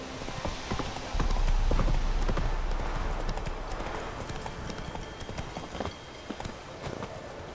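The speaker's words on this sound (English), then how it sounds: "Whoa there, Roach." Horse hooves clip-clop steadily on the ground in The Witcher 3 video game, with a rhythmic trotting beat at moderate loudness over a rumbling game ambience.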